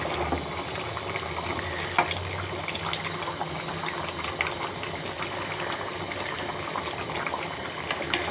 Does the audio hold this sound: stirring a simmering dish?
yes